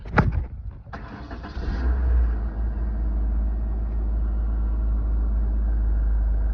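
A 1993 Mercury Tracer engine cranks and catches with a short burst, then settles into a steady, low, rumbling idle that runs on evenly at close range with no talk.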